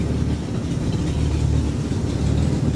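A 1991 Mercury Cougar with a failing head gasket, running roughly, rumbles low and steady as it backs up, a continuous near engine drone with no speech.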